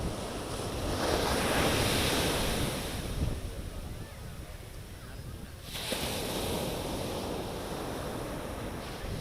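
Sea waves wash onto a beach shore in Chennai, a broad steady roar of surf with gusty wind noise on the microphone, swelling and easing without a break.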